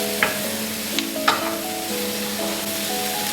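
Mushrooms fry in a pan with a steady, close sizzle, while a few sharp clinks and scrapes of a utensil stirring them rise above the constant hiss.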